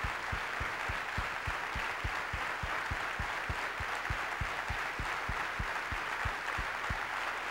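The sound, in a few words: audience applause for three heroes at dedication ceremony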